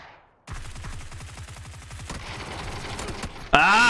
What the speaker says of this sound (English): I've hit him in the head with an SKS